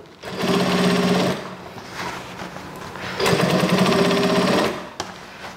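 Sewing machine stitching the waist seam of trousers being taken in, running in two loud, steady buzzing bursts separated by a short, quieter slow pass, close up with no talk over it.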